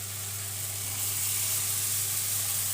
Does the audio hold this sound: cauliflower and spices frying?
yes